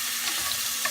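Red onions frying in a pan give a steady, close, fairly loud sizzle with faint crackles throughout and no voices.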